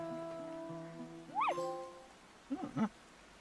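A fox barks in the video game Endling, with a few sharp, rising yelps over a soft tonal game soundtrack, fairly close and clear.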